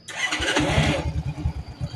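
A Honda Astrea Grand motorcycle engine cranks with a brief electric-starter whir, then catches and settles into a close, rapid, pulsing idle.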